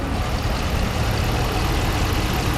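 A Hemi V8 pickup truck engine idles after an MDS delete, its low steady rumble blended with the broad rushing whoosh of an electric fan blowing nearby, with no talking.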